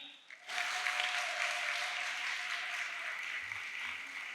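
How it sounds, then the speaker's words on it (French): An audience at an oratory contest final breaks into applause for a speaker's entrance, starting abruptly after a brief lull and continuing as a steady, even wash of many hands clapping. "un maximum d'applaudissements pour Arona Suleiman Goudjabi"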